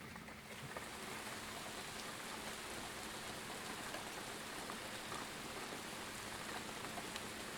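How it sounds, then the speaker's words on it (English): Steady rain patters on a campsite's surfaces, a dense, even hiss of drops that holds at a constant moderate level throughout, with no voices. "Yeah, we're definitely getting rain."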